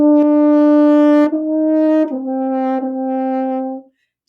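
A band instrument plays the opening notes of Lightly Row legato, four smoothly connected sustained tones stepping downward with almost no gap between them, clear and close, no voices.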